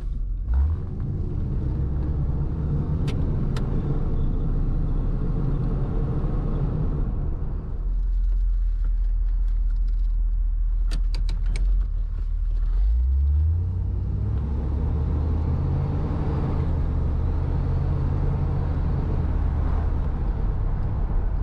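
A 1979 Chevrolet Corvette C3 L-48 V8 rumbles at idle with a deep, steady low exhaust burble, swelling in a couple of surges of revving before settling back to a throaty idle.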